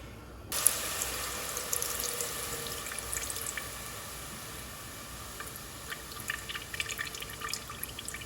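Water from soaked plums is strained into a cooking pot, starting abruptly as a steady trickling pour with splashes and drips, fairly close and continuing throughout.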